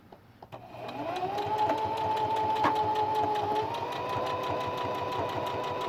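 A sewing machine hums steadily while stitching a fabric mask with a narrow 1/8 inch seam, starting after a few light clicks and then running continuously up close.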